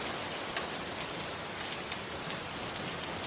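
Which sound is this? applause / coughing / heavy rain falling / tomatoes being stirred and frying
heavy rain falling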